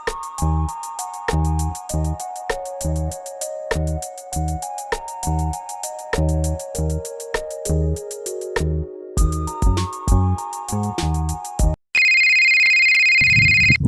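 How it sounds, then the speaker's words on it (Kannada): A mobile phone ringtone plays a bright, repeating electronic melody in steady pulses. It then switches to a continuous high tone near the end, loud and close, with no talk over it. "ಅದ ಫೋನ್ ಬಂತಪ್ಪ"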